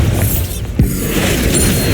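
The Bombarda explosion spell in the Hogwarts Legacy video game gives a loud, deep boom with a sharp impact partway through, followed by a sustained rumbling roar and some bright crackling debris.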